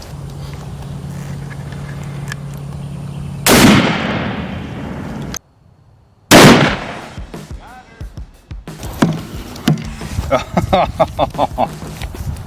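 Two loud, sharp 7.62 rifle shots strike a civilian armor plate a few seconds apart, each with a short ringing decay. Scattered clatter and handling noises follow outdoors.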